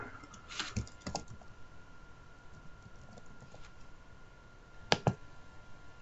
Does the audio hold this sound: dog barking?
no